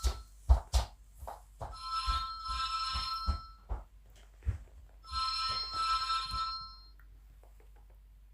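During a recorded interview indoors, a telephone rings in two trilling bursts with a pause between them, fairly near, amid a few soft knocks and room sounds.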